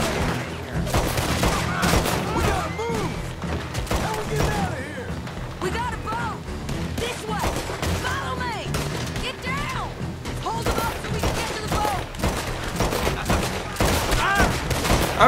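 Rapid gunfire rings out in a Red Dead Redemption 2 jailbreak shootout, sharp shots cracking in dense, irregular volleys throughout, layered with echoing reports and battle noise while voices shout intermittently.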